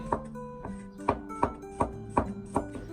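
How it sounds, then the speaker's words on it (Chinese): A knife slices peeled garlic into thin slices on a board, giving about eight crisp, evenly spaced taps close by with a bright ring after each one; no voices. "接下来准备一小把去皮的大蒜，切成薄片"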